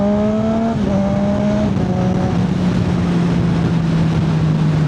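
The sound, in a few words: car engine revving during a fast upshift without the clutch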